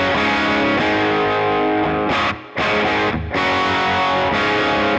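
Cream T Aurora electric guitar played with a hot, heavily distorted tone, thick sustained chords ringing loud with two brief cut-offs midway, no voice.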